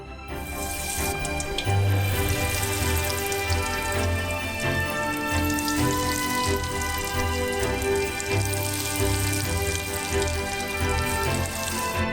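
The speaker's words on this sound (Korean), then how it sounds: "그리고 이 퓨레들을 튀겨주세요." Croquettes made from purée balls frying in a pot of oil on the stove give a steady, dense sizzle and crackle that continues for the whole stretch, with no talking.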